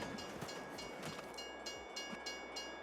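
A train in the video game Farming Simulator 22 rumbles steadily with a low mechanical drone and faint clattering, under a continuous hum, no voices.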